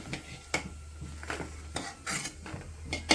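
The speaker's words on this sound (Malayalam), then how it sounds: "ഇനി അത് കോരി പ്ലേറ്റിലേക്ക് മാറ്റാം" Fried green chillies are scooped from a pan onto a plate, with several close metallic scrapes and clinks of a spoon against cookware over a low background hum.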